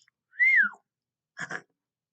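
A lecturer imitates a whistle with his own voice: one rising-then-falling whistled tone, close and clear, followed after a short pause by a brief breathy vocal sound.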